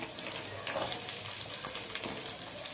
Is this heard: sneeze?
no